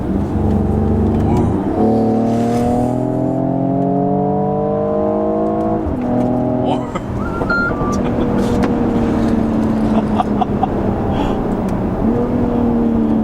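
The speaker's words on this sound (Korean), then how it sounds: "수동 모드로 해서 한번 좀 달려보도록 하겠습니다." A Mercedes GLE 53 AMG SUV accelerating hard in manual mode, its engine note climbing steadily through the gears with distinct rising tones and brief drops at each shift, loud and close inside the cabin, with a few soft voices underneath.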